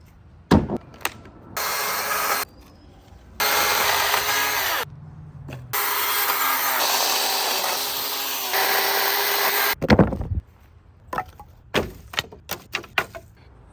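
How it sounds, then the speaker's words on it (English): A chainsaw cuts through a fallen tree that crashed into a yard fence, running in loud, sustained bursts of several seconds each, separated by brief pauses and followed by scattered knocks and clatter. "I'm just going to go grab the chainsaw now"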